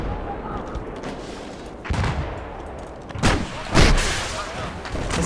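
Gunfire and heavy shots hit a tank in the video game Battlefield 4: a steady rattle of distant rounds broken by several louder booming impacts, with a player's voice talking over the battle.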